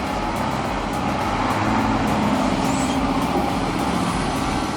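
A convoy of heavy trucks with engines of about 500 horsepower labours uphill under massive loads, giving a dense, steady engine roar and rumble that stays loud throughout with no talk.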